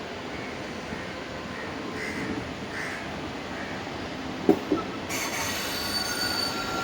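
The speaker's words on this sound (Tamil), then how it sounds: "நம்ம ட்ரெயின் வந்து பார்த்திங்கன்னா ஆன் டைமுக்கு டிபார்ட் ஆகுது கன்னியாகுமரி ஸ்டேஷன்லேருந்து" An Indian Railways passenger train departs Kanyakumari station, rolling along with a steady low rumble and squealing wheels, with a couple of sharp clanks midway and a brighter hiss near the end.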